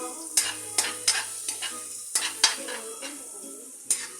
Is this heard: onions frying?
yes